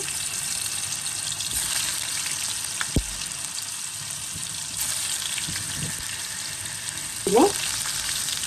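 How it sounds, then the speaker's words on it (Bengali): Vegetables frying in a pan, giving an even hissing sizzle throughout with a soft clink near the start and a brief louder rustle toward the end, close by and with no talk. "তো ভেজে নিচ্ছি।"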